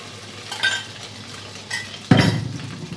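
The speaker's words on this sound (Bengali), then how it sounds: "এই তেলের মধ্যে ফ্রাই করব হচ্ছে এই যে সয়াবিনটা ডিম দিয়ে ম্যারিনেট করে রেখেছি এটা" Egg-marinated soybean chunks dropped into hot oil, a sudden sizzle after a few faint utensil clinks and stirs, close and moderately loud with no talking.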